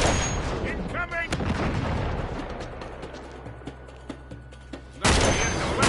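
Gunfire from the video game Uncharted 3 crackles in scattered bursts and sharp single shots, some loud and near, others fainter, with a heavy blast near the end.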